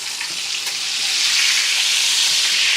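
Sirloin steak sizzles and fries steadily in a hot pan, a continuous loud crackling hiss that swells slightly toward the end, with no voices over it.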